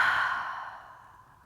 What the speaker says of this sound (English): with a ha sound through the mouth